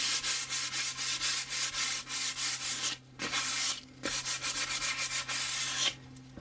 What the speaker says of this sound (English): Wait another 15 minutes or so and continue sanding.